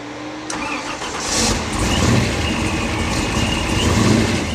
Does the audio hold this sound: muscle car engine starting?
yes